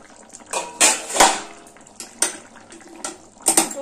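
A metal lid lifted off a cooking pot of turnip curry simmering on a low gas flame, with several clinking metallic knocks and a soft wet bubbling underneath.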